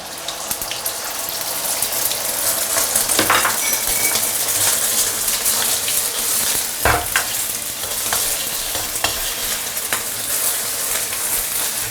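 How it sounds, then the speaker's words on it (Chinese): Eggs sizzle loudly in a hot wok while a metal spatula or ladle scrapes and clinks against the pan. The bright, dense frying hiss is punctuated by sharp, irregular stirring strikes. "鸡蛋给它炒一炒，煎一煎"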